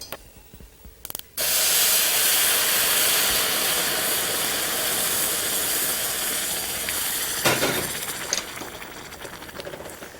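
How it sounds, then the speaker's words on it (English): Boiling water pours into a hot pan of sautéed rice with a loud, sustained sizzling hiss that starts abruptly and keeps up steadily, with a few brief clinks near the end. "now let's add our boiling water"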